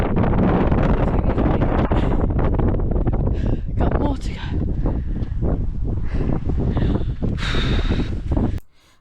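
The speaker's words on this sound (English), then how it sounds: "As you can tell, it is very windy" Strong wind buffets the microphone on a hilltop at Bamford Edge in loud, roaring gusts while a person talks, ending abruptly.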